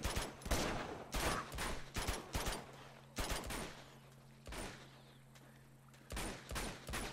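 Rapid bursts of gunfire from the video game Uncharted 2: Among Thieves crackle in loud, clustered volleys with short gaps between them, over a steady low hum.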